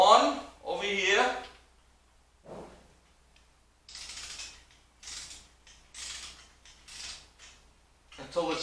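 A ratchet works down the crankshaft main cap bolts on a Ford 5.0 small block Windsor engine, with bursts of quick clicking strokes between pauses, close by, while someone talks over parts of it.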